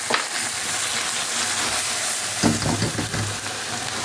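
Spice paste for beef rendang stirred in a hot pan, a steady sizzling frying hiss with soft scraping stir strokes, close and continuous with no talk.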